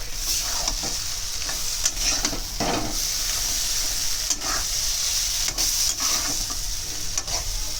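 Fried fish head and tail go into a frying pan of oil alongside taro, producing a loud, constant sizzle with intermittent stirring scrapes and spatula clinks scattered throughout.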